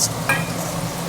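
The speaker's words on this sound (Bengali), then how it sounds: "এবার সর্ষেটা দিয়ে দিচ্ছি" Mustard paste poured into a hot pan of oil, giving a short burst of sizzling and a stirring scrape against a steady low frying hiss, with no talk.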